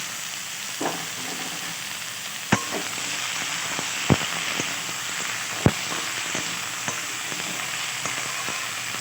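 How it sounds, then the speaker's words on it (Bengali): Potatoes and onions fry in oil in a pan while being stirred, a steady close sizzle punctuated by several sharp knocks of the spoon against the pan. "আলুটা একটু নাড়াচাড়া করে নেবো তেলের সাথে পেঁয়াজের সাথে"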